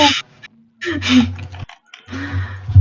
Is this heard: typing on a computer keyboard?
yes